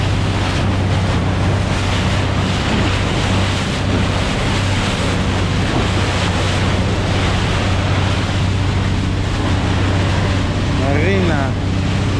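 Ocean waves wash and splash steadily around a moving boat off Claver, Surigao del Norte, with heavy wind rumble on the microphone and people talking over the water noise.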